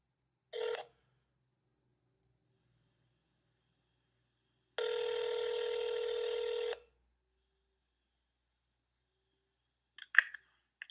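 A telephone call placed to Senator Marco Rubio's Miami office: a short click, then a single long ringing tone of about two seconds in a quiet line, and a few faint clicks near the end.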